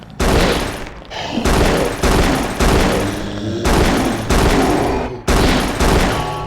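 Gunfire in the Frater video game comes as repeated loud bursts of rapid shots, several volleys separated by brief pauses, filling the sound with dense crackling blasts.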